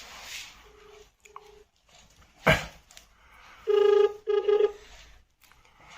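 An outgoing phone call being placed: two short, faint electronic tones, a sharp click, then two loud buzzing ringback rings, each lasting around half a second, heard clearly on their own.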